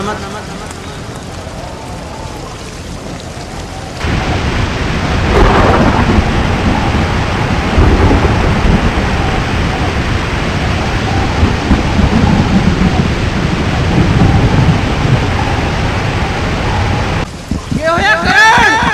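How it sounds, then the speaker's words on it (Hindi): Heavy rain pours down with deep rumbling thunder, loud and close, and voices can be heard underneath the storm. "बारिश हो रही है।"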